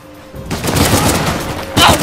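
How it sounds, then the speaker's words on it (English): Loud gunfire bursts through in the video game Uncharted: The Lost Legacy, a dense crackling volley after a quiet opening, then a fresh sharp burst just before the end. "Shots fired! Shots fired!"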